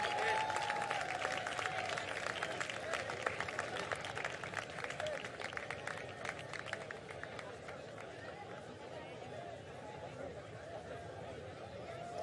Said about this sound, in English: On peut les applaudir s'il vous plaît, messieurs,